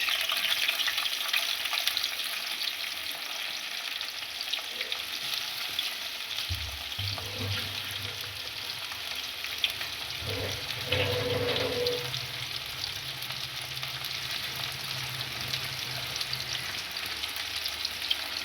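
Chopped onion and green chilies fry in a pan with a steady close sizzle and hiss, punctuated by stirring clatter and a brief splash of running water midway, no talking.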